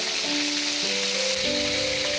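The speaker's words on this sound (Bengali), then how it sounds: "এখানে মাছ ভাজা হচ্ছে, লোটে মাছ" Bombay duck fish frying in hot oil in a pan, a loud, steady close-up sizzle with crackling throughout and a faint tonal hum underneath.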